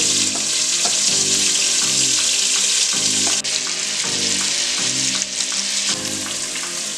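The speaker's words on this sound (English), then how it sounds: "So we've got our chuck roast browned nicely here." Chuck roast beef browns in a hot pan for beef bourguignon, a loud, continuous sizzle and crackle close by, with faint background music and no talking.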